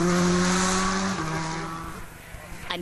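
Alex Bengay's rally car on the Tour de Corse stage in France, its engine loud and close with a strong harmonic whine that drops in pitch as it passes, then fades away, with a faint voice underneath.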